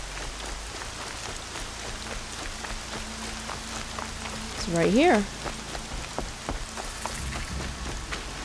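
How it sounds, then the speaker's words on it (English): Steady rain falls in the Horizon Zero Dawn video game, a constant soft patter of drops on surfaces throughout, with a brief spoken phrase cutting in near the middle. "When is the rain gonna let up? It's so dreary."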